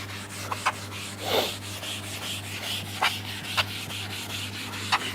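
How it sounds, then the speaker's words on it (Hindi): Rubbing out writing on a classroom board during a maths lecture, heard as short scrubbing strokes: a broad swipe near the start, then a few sharp, separate rubs spread across the clip over a steady low hum. "मैं इसको रब कर देता हूँ."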